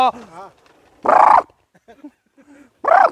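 A dog barks twice, loud and close, with short gaps between; quieter voice-like sounds and faint noises fill the pauses.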